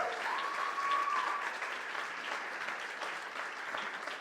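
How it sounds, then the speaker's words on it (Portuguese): A church congregation applauds steadily at an evening service, with a continuous, moderately loud wash of many hands clapping that holds without a break. "vamos aplaudir ao Senhor"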